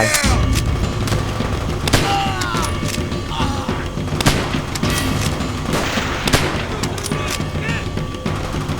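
Loud, rapid gunfire from a powerful weapon in Call of Duty: World at War, sharp repeated shots and booms amid chaotic battle noise, with a voice speaking briefly.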